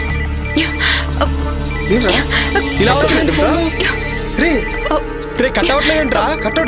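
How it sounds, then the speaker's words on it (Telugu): A phone rings with an incoming call, its repeating electronic ringtone loud and steady throughout while people speak over it. "నాకు కూడా శివగారి నుండి కాల్ వస్తుందిరా"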